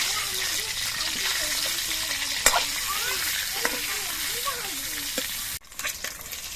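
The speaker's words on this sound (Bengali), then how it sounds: "এবার ডিমগুলো ভেজে নিচ্ছি" Eggs rubbed with salt and turmeric fry in mustard oil in a wok, giving a loud, continuous crackling sizzle that runs under a speaking voice and then cuts off abruptly near the end.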